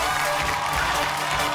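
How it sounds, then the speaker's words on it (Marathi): An audience applauds on a Marathi TV game show: dense, steady clapping that keeps the same level for the whole stretch, with crowd noise mixed in. "आपल्या पुढच्या खेळामध्ये एकदा जोरदार टाळ्या होऊन जाऊ दे"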